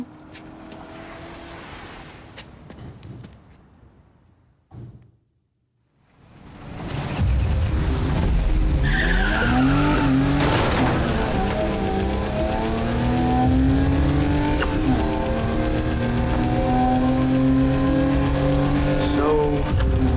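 A car engine in the racing game Need for Speed: Heat revs loud and close, its pitch climbing and sweeping as the car accelerates. Tyre noise rides under the engine, with a brief quiet gap early on.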